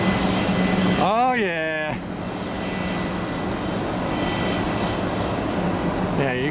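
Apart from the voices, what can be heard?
jet aircraft arriving at Tampa airport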